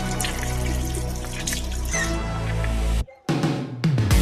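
Tap water runs steadily into a sink during face washing, close and continuous, then briefly cuts out before splashing and flowing resumes.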